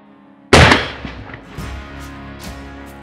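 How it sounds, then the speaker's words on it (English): A single sharp, loud rifle shot fired at a whitetail buck at long distance, cracking suddenly and then fading into a long rolling echo with faint distant reports. "I carefully take aim and I fire my first shot like my life depends on it."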